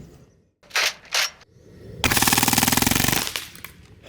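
An Umarex Strike Force .177 BB rifle with blowback fires full auto, loud and close: a couple of quick clicks, then one rapid rattling burst of about a second that empties the magazine.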